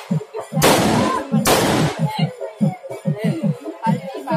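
Two loud firecracker bursts crack close by in quick succession, each with a sharp noisy blast, while someone talks in bursts around them.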